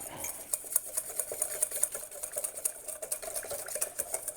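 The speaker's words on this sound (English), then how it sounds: "I'm just gonna whisk it up" A whisk clinks rapidly against a bowl while beating a blueberry mixture for bruschetta, a close, steady run of quick metallic taps and swishes.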